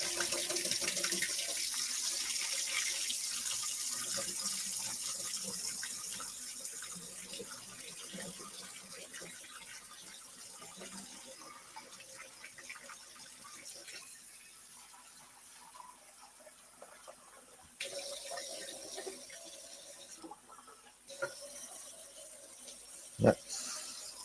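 Water running from a tap into a bowl at a scale-modelling workbench, a continuous bright hiss that fades and changes pitch as the bowl fills, followed by a few clinks and light knocks.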